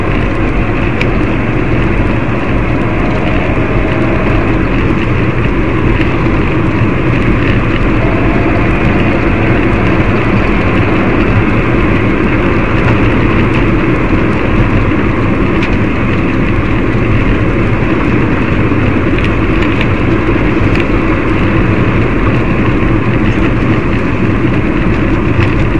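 Electric car with a Cougar open source digital motor controller driving on Australian roads over small hills, a steady loud drone of motor and road noise throughout with no pauses.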